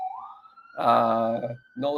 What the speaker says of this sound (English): We definitely have sirens here in New York City